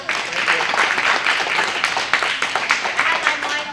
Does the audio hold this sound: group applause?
yes